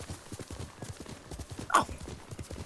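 Horse hooves clip-clop in a steady rhythmic gait in the video game Ghost of Tsushima, moderately close, with a brief higher snort or whinny near the middle.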